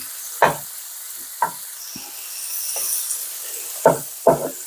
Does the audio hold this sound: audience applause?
no